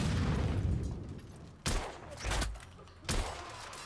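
Gunfire in The Order 1886, with three sharp broadband shots spaced about a second and a half apart over a dense, rumbling battle din, loud and close.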